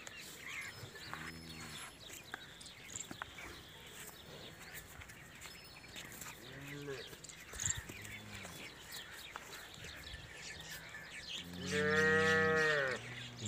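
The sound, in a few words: cattle mooing, Jersey Friesian cross cows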